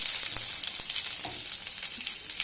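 Whole cumin seeds and a little ginger dropped into hot oil after frying fish, giving a continuous close sizzle and crackle with a few faint pops.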